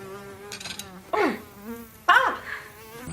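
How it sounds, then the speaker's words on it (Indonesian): Flies buzzing close by, a steady droning hum that wavers in pitch, with two louder swooping passes as one zips near. "suara di ruangan tersebut jadi bising sekali ditambah saat Christine minum, dia pun malah keselak lalat"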